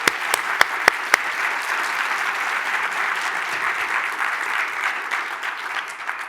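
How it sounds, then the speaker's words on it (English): Lecture audience applauding, a few sharp individual claps at the start building into dense, steady clapping that carries on loud and close through the whole stretch. "Let's give them a round of applause."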